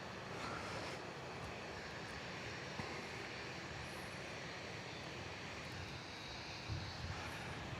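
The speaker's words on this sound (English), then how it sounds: "Now here we have it. One of the oldest 767s still around." An old Boeing 767 cargo airplane at Miami airport gives off a faint, distant, steady engine roar, broad and unchanging, with no talk over it.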